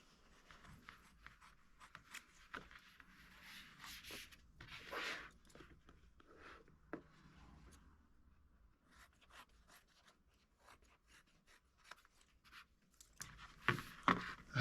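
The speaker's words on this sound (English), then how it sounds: "I'm just going to cut that to the size" Scissors cutting through a folded towel to fit a container, giving irregular bursts of snipping, rubbing and scraping fabric noises close up, with pauses between cuts and no talk.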